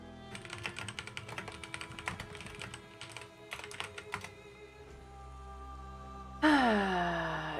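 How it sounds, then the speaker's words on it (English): Rapid computer keyboard typing in quick bursts for about four seconds, close and clear over a quiet room hum, then pausing before a louder tonal sound takes over near the end. "I was typing at my sister about something."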